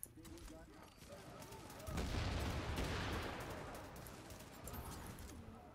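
Faint, distant gunfire crackles in a Division video game firefight, swelling into a dense burst of shots midway before tapering off.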